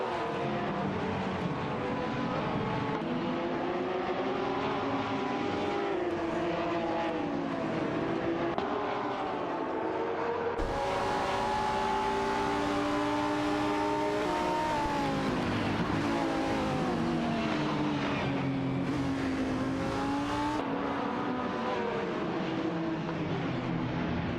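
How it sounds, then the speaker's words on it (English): Race car engines, including an Infiniti G35 GT2, in a racing video game; loud sustained engine drone with rising and falling revs and gear shifts, continuous with no talk. "Amin-san, piloting the Infiniti G35 GT2, is holding strong"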